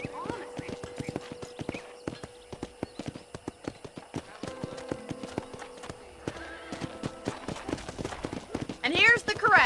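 Horse hooves clip-clop at a quick, steady trot in the western game Red Dead Redemption, close and crisp over a low background, with a brief whinny at the end; someone talks over part of it.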